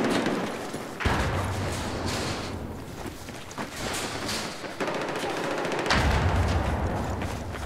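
Gunfire in a Battlefield 4 multiplayer match, with dense, continuous shooting and rattling bursts layered over constant battle noise, loud and close.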